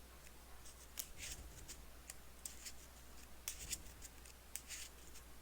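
A deck of game cards for the Arkham Horror card game is shuffled, giving a series of quiet, crisp riffling and snapping bursts at irregular intervals over a faint, steady background hum.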